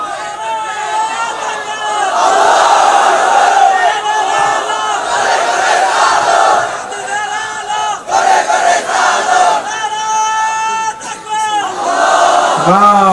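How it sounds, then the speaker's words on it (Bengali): A crowd of people shouts a takbir chant in unison for a visiting guest, loud repeated bursts of massed voices rising and falling with brief gaps between calls. "আমরা এই মেহমানের জন্য তাকবীর দিচ্ছি"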